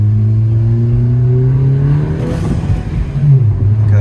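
Honda Civic Si engine running with a new Ktuner tune, loud and close, its steady low drone rising in pitch as the car accelerates, with a brief surge of road and wind noise partway through.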